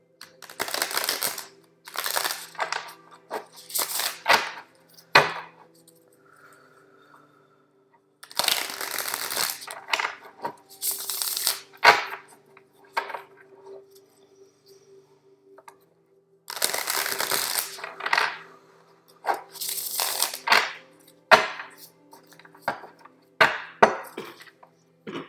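Tarot cards shuffled by hand in quick bursts of crisp riffling and slapping, separated by short quiet pauses, close and fairly soft.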